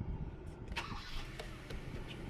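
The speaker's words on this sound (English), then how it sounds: "Try to start the car" A Kia car's engine cranks and tries to start, heard as a muted mechanical churn with a few sharp clicks and bursts, fairly faint and without talk.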